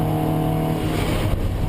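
Toyota MR2 Mark III race car in a championship race at Cadwell Park, a loud sustained engine roar with a gritty low rumble, held steady and close through the short moment, no voices.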